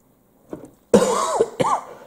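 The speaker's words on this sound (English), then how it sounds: "There's that dry throat, dry nostril, dry back of the nostrils cough" A dry cough from a person with a parched throat and nostrils, one short hack followed by a harsh, strained cough and a second rasping burst, loud and close.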